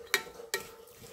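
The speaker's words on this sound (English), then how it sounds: "So we'll just mix this all together" Mango salsa with brown sugar and salt being mixed by hand, with two quick, crisp spoon strokes about half a second apart, close and moderately loud, followed by a quiet pause.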